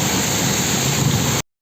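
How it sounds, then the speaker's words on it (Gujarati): Heavy rain pours down in Junagadh as a dense, loud, steady hiss of water on the road, which cuts off abruptly near the end. "ખૂબ જ ધોધમાર વરસાદ આવી રહ્યો છે જુનાગઢમાં"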